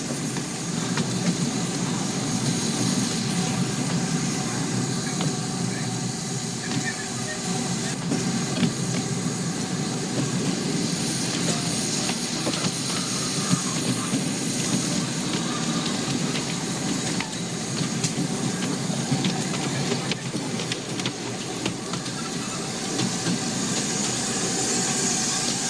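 Wealden Lady, a light railway locomotive, passes on an adjacent avoiding line near a junction station, heard as a steady, continuous rumble of running train and wagons with faint rhythmic clatter throughout, no talking.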